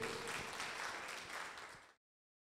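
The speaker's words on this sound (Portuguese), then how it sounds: "Palmas para Jesus." Congregation applauding during a communion service at church, a dense steady wash of clapping that carries on for about two seconds before cutting off abruptly, with no voices over it.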